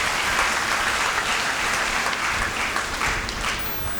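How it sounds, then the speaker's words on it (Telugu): A church congregation at a feast of Saint Anthony of Padua applauds steadily for a few seconds, a dense, even wash of clapping with no voices over it. "మరి చప్పట్లు కొట్టాలి."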